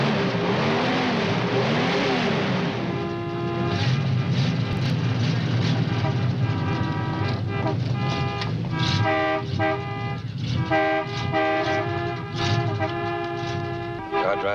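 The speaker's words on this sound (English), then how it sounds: "Start your motor. Gun it loud." A car engine in a 1958 crime film roars loudly and steadily, its revving tones rising and shifting for many seconds amid other dense, overlapping sound.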